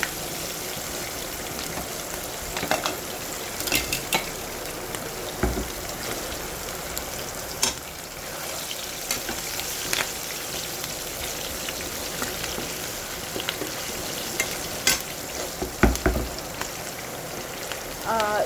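Chopped green chilies, dried red chilies and onion sizzle in a hot pan of oil for a Telugu snake gourd and sesame cake curry, a steady close crackling hiss with occasional louder pops.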